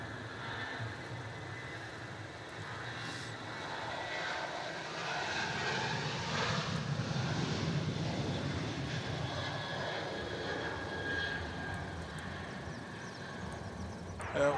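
A Qantas Boeing 737 jet takes off from Melbourne Airport toward Sydney, its engines a broad distant roar that swells midway and holds steady without voices.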